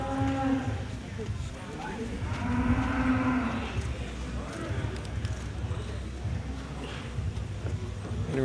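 Young Jersey cows low several times amid the murmur of a busy cattle show in Lindsay, their drawn-out moos rising over crowd chatter, shuffling hooves and people talking nearby.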